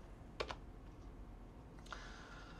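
Scattered keystrokes on a computer keyboard while a command is entered during a Linux install: a couple of short clusters of faint clicks over a quiet room hum, with no talking.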